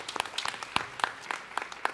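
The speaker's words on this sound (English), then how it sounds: "give that a round of applause" An audience at a foster care panel discussion claps in brief, scattered applause, fairly faint and a little distant, with individual hand claps standing out.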